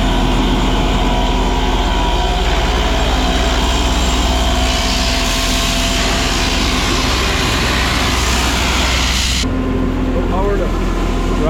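A front PTO-driven air compressor on a 6499 tractor runs with a loud, steady mechanical drone and broad hiss, continuous and close, changing tone abruptly near the end.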